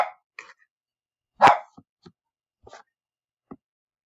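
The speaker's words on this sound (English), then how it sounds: "more barking dog drama" A single sharp bark rings out in a quiet room, surrounded by a few faint scattered clicks and taps.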